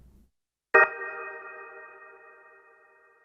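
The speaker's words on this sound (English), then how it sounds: "We have reverb. Turn it on." A single drawbar organ chord from a Ferrofish B4000 Plus module strikes sharply after a brief silence, then sustains and slowly fades with a reverberant tail from its reverb effect.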